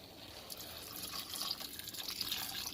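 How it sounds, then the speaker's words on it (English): Water poured from a cup into a pot of cooked chickpeas for chana masala, a steady splashing trickle at close range with no talk. "we're going to add some water to this"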